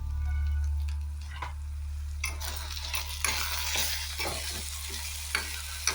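Spices temper in hot oil for an Andhra gongura chutney made with dried red chillies, a steady close sizzle broken by scraping stirs of a utensil against the pan, over a low background hum.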